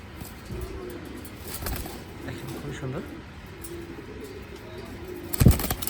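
Racing pigeons with club tags coo in soft repeated low calls, with a brief louder flutter of wings near the end, as someone talks over them.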